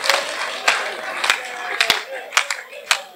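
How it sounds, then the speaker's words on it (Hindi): A comedy poetry gathering's audience claps in a few scattered bursts, sharp separate claps spaced irregularly rather than a sustained ovation, fairly quiet overall. "एक बार तालियां"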